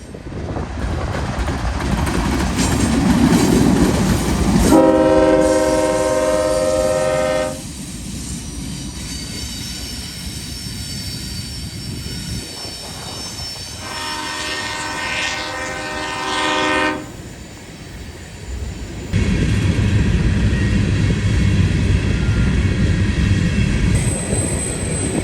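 CSX freight train passing on the Toledo Sub through Hamilton, loud rumbling wheels and clattering cars with several long blasts of a multi-tone horn, the horn sounding twice in sustained chords over the steady roar.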